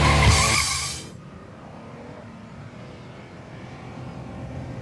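A 2006 Acura RL brakes hard and its tires let out a loud, high squeal for about a second before the sound drops to a low rolling rumble.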